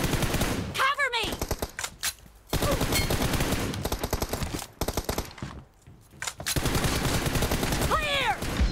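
Rapid automatic gunfire in the mobile shooter game Free Fire during a team deathmatch, dense bursts of shots broken by brief pauses, with occasional sharp ricochet-like whines.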